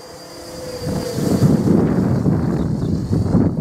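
Quanum Nova quadcopter drone flying a flat-out speed run outdoors in wind, a steady motor whine and rushing air building up and holding loud, with wind buffeting the microphone throughout.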